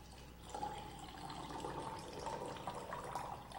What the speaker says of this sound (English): But watch what happens when we simply add more water.